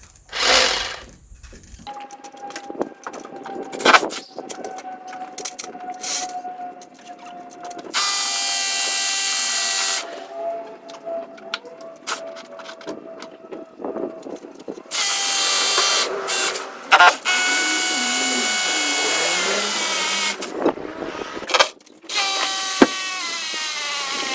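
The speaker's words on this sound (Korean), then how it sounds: "요걸로 이거를 이 이 도구를 사용해서 타공을 해보겠습니다" A hammer drill bores a mounting hole in a house wall for a folding awning, its loud rattling whine running in several long bursts with brief pauses and mechanical clatter between them.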